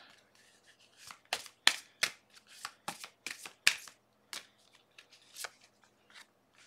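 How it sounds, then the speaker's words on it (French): Tarot cards shuffled and drawn by hand, a series of sharp close riffles and snaps in an irregular rhythm over a quiet background, with no talk. "Je vais tirer toutes les cartes et on regardera le message."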